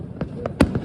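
A firecracker set off during the Tihar festival pops sharply outdoors, a few short bursts in under a second with faint background noise.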